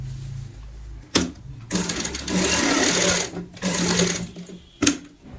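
An electric sewing machine stitches a pillow cover in rapid rattling runs, two longer stretches of steady needle chatter broken by brief pauses and sharp clicks.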